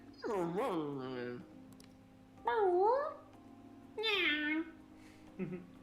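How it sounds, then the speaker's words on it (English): A cat meows three distinct times with gaps between, the calls rising and falling in pitch, close and clear over a faint steady background hum. "It's a cat, Gary."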